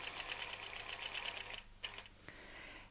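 A longarm quilting sewing machine stitches along a tray template with a rapid, even mechanical patter. It stops after about a second and a half, and a few scattered clicks and bumps follow before a soft steady hum.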